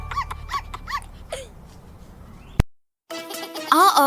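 A cartoon puppy gives a few short yips and whimpers over a soft background, then a sharp thump, a brief silence, and a louder burst of music-like sound at the end.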